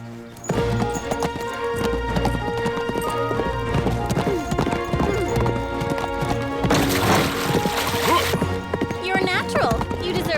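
Horse hooves clip-clop in a quick, steady rhythm on hard ground in an animated adventure, close and prominent, with a whinny and voices mixed in over the trotting.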